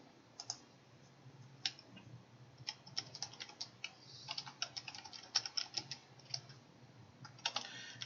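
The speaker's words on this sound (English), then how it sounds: "Having trouble typing as always." Quiet, irregular clicking of keys on a computer keyboard, with bursts of rapid typing separated by short pauses, heard close against a faint background hum.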